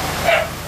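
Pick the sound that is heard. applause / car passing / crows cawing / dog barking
dog barking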